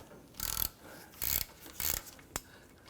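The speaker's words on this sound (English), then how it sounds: "So I'm going to use my 15mm wrench and ratchet." A 15mm wrench and ratchet loosen bolts on a 2006-2010 Hummer H3 rear wheel bearing job: three short ratcheting clicking bursts followed by a single sharp tick, close and fairly faint.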